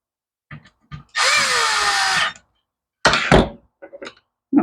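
Power drill driving bolts into plastic during a restoration, one sustained whirring burst of about a second, near and loud, followed by clunks and short knocks of handling.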